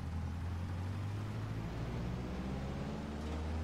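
A Scottish Aviation Bulldog's piston engine in Microsoft Flight Simulator drones low and steady as it builds power for takeoff, a continuous close hum with no talk.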